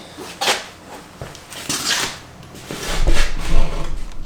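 A Sherco dirt bike's radiator fan rattling, heard as a few irregular knocks and clattering bursts close by that grow louder and denser toward the end.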